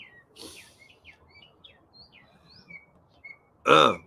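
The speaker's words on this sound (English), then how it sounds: "Man, the birds are loud this morning." Birds chirp and tweet steadily in short calls in the morning, with a louder squawk-like burst near the end.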